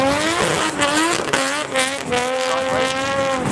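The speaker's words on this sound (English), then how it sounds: "I could hear that as he was approaching the first cone, he was hard on the" A Nissan R33 two-door coupe drift car on track, driven hard on the accelerator, its engine note rising and falling with wavering revs and hints of tyre noise, loud and fairly close, with no voices.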